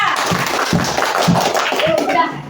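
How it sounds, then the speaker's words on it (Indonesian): A class of students claps in a classroom to cheer on group 3, the clapping loud and close with a teacher's voice talking over it. "tepuk tangan untuk kelompok 3."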